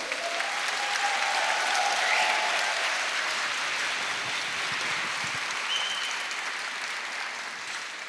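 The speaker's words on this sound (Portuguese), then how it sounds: "Gostaria de pedir uma salva de palmas para o nosso professor." Sustained applause from an audience fills the whole stretch, a steady wash of clapping hands at an even level that tapers slightly near the end.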